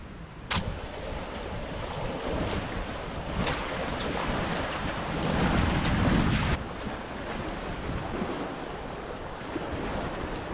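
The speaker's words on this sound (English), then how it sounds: "And this is the tidal Potomac River." Wind and lapping waves on the tidal Potomac River at a park boat launch make a steady, broad rushing noise with gusts buffeting the microphone, swelling briefly midway before settling.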